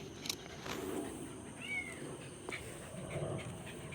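A kitten trapped down in a sewer gives a faint, distant, echoing meow, with thin cries and scattered bumps around it and no one talking.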